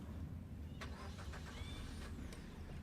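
A manual-transmission car's engine cranks and fires after a start button is pressed, a short starter whir and catch into a low idle heard close and fairly quiet, with no talk.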